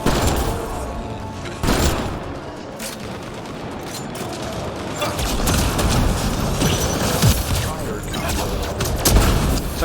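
Incendiary ammo gunfire in Mass Effect Andromeda rattles in steady bursts amid crackling impacts and combat noise, fairly loud and continuous, with occasional heavier booms.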